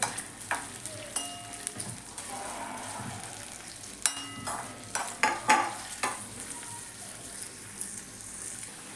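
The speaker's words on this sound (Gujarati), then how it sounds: "ત્યારબાદ ડુંગળી હતી એ એડ કરશું અને બધું સારી રીતે સાતરી લઈશું" Garlic and onion sautéing in a pan for a snack made from leftover rotis, with a soft steady sizzle and repeated scraping stirs and clinks of a spoon against the pan, close and fairly quiet, no talk.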